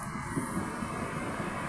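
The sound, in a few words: Panasonic stand fan running on speed 1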